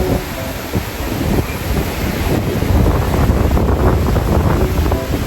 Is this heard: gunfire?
no